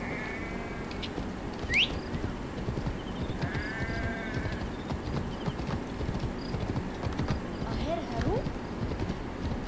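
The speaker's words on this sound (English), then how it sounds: "there's a horse right here." A horse's hooves clip-clop in a steady walking rhythm in Assassin's Creed Origins, close and continuous, with brief bird-like calls and animal bleats in the background.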